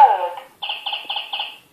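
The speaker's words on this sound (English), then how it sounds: "Bird." A VTech Little Smart toy computer plays an electronic bird call, a short tonal warble followed by four quick bright chirps in a steady rhythm, close and fairly loud with no talking.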